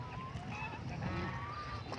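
A flock of domestic ducks on a riverbank honks and calls as the birds head into the water, a low, busy outdoor chorus heard at a moderate distance.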